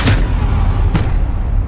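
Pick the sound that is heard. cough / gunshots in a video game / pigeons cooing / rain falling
gunshots in a video game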